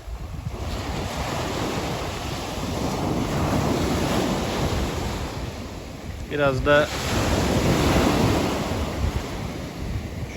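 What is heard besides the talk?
sea waves crashing on the shore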